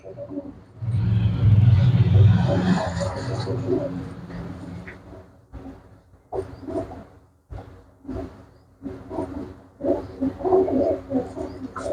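Pigeons coo in low, throaty murmurs, one long bout followed by shorter repeated coos, with a faint rumble in the background.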